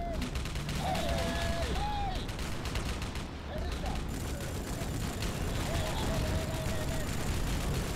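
Rapid, continuous gunfire rattles through a firefight in the shooter Rogue Trooper Redux, steady and fairly loud, with mechanical game sounds and someone talking over it.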